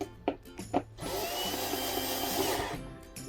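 A power tool tightens the bolts on an office chair's adjustable arms. A few short, close bursts lead into one sustained whirring run of about two seconds, with no talking.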